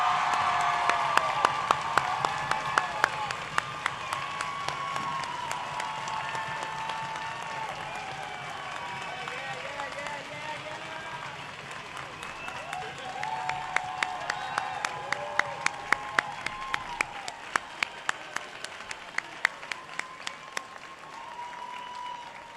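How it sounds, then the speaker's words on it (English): Sustained applause from a graduation audience at the Nathan Hale 2024 ceremony, dense steady clapping with scattered whoops and cheers, moderately distant and filling the whole stretch without speech. "Let's have one more round of applause for our graduates 2024."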